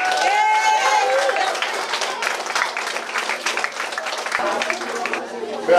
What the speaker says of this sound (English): So give yourselves a last round of applause.